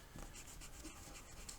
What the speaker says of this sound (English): I'm going to erase